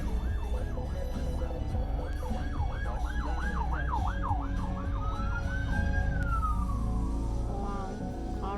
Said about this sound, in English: Oh, some ambulance coming.